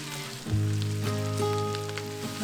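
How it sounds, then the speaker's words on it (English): Sausage and onion sauté in a soup pot with a steady sizzle that swells after the onion goes in and holds under a low, even hum. "I'm gonna let that all saute really well."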